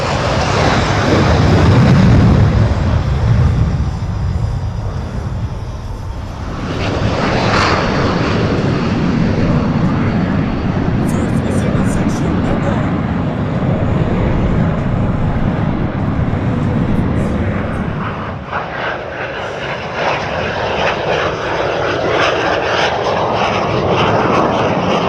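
A C-17 cargo aircraft backs up on the ground at the CFB Cold Lake airshow, its engines roaring loud and continuous with shifting turbine tones, while crowd voices stay faint in the background.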